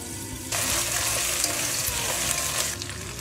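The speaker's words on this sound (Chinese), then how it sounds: "锅里稍微多来点油，羽毛那面朝下，给它煎一下" Chicken wings frying skin-side down in a generous layer of oil in a pan, a loud steady sizzle that bursts in abruptly and crackles continuously before easing slightly near the end.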